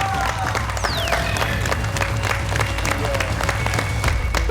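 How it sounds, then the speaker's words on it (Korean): Studio audience applauding after a body-cutting magic illusion on a TV magic show, steady clapping filling the space with a few whistle-like tones and stray voices mixed in. "허리가 잘 붙었는지 여러분의 박수가 필요합니다"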